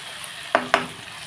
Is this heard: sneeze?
no